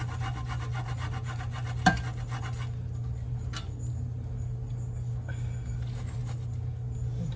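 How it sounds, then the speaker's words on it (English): Lemon rind grated by hand for a lemon posset, a soft scratchy rasping that goes on steadily under a low background hum, with one sharp knock near the start. "I'll grate a bit of lemon rind into it"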